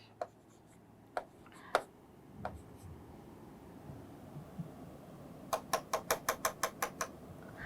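Chalk on a classroom board as a Hindi lesson's letter salutation is written: scattered sharp taps and scratches, then a quick even run of about nine crisp clicks, all fairly faint over a quiet room.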